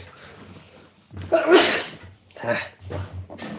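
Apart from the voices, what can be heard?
sneeze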